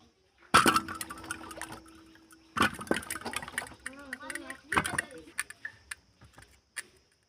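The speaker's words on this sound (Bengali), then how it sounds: "প্রথমে আমি আমগুলোকে ভালো করে ধুয়ে নেব" Raw green mangoes being washed by hand in a bowl of water: sharp splashes and sloshing come in separate bursts with small clinks, and a voice talks between them.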